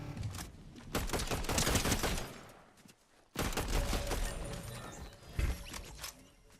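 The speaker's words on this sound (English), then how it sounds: "Felt like I heard shooting back this way." Rapid video game gunfire in two dense bursts of sharp cracks and clattering mechanisms, loud and close, separated by a short lull.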